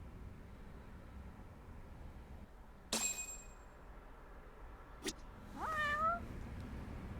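A cat meows once, a short rising-falling call near the end, after two brief sharp sounds over a steady low background hum.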